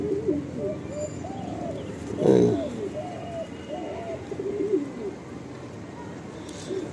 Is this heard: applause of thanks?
no